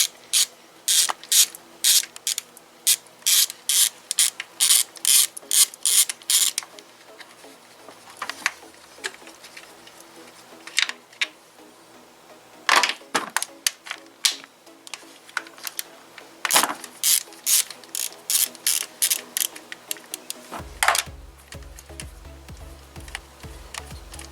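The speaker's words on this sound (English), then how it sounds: "All the bolts will need to be removed now." Ratchet clicks in quick rapid bursts while bolts are removed from a Kia Forte Soul 1.8/2.0 engine, close and crisp, with pauses between runs and a few louder knocks toward the end.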